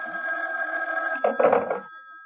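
A telephone bell rings steadily and loudly in a radio drama, with a clunk as the receiver is picked up near the end of the ringing.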